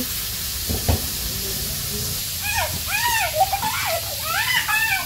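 Shing (stinging catfish) fry in a pan in a village kitchen with a steady, close hiss and sizzle, while warbling high-pitched chirps rise over it midway.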